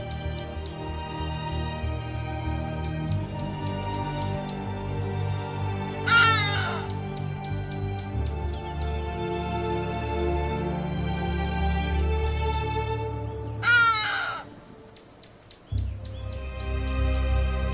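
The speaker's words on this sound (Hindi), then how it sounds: "हडीडा दक्षिणी अफ्रीका में पाई जाने वाली एक आम चिड़िया है" A hadeda ibis in the South African wild gives two harsh, loud calls several seconds apart over a steady background drone.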